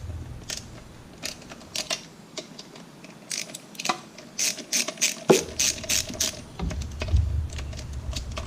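Ratchet wrench loosening the thermostat housing bolts on a 1986 Chevrolet Camaro IROC-Z: bursts of quick, close clicking pawl sounds with short pauses between them, some light metallic handling, and no speech.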